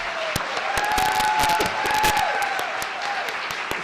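An audience at a town hall in Northeast Indiana applauds the speaker with steady, full clapping and some cheering. A faint tone runs through the clapping.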